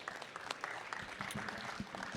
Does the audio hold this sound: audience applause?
yes